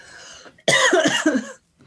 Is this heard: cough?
yes